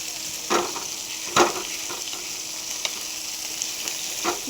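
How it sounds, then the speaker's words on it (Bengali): Fish frying in a pan on a home stove, with a steady close crackling sizzle and a few brief louder spatters and pops across the clip. "মশলা কষাচ্ছি আর এখানে মাছ ফ্রাই করছি"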